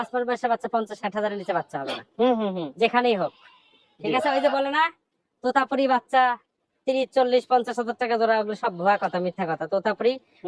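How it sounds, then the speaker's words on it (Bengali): A Totapuri goat at a livestock sale bleats in repeated wavering calls, close and clear, with short pauses between bursts and voices around it. "এইখানে একটা ছাগল আছে এটা তোতা"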